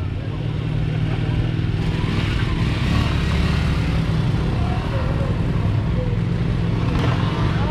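A Lifan 150 motorcycle engine at a motorsport stage start, a loud continuous engine roar close by, running steadily through the stretch.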